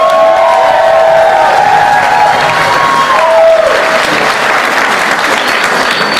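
Loud, sustained crowd applause for a band fills the room, steady clapping with some cheering and a few whistles throughout.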